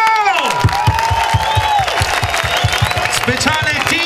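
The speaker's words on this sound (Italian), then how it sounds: "Qua ci sta l'applauso!" A festival crowd at a summer anthem show claps in a rapid rhythmic beat while cheering and whooping, shouts and high voices rising over the steady pulse of hands.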